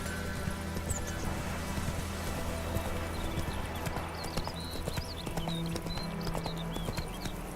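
Roach the horse galloping in The Witcher 3, with rapid rhythmic hoofbeats that hold steady throughout over faint ambient background.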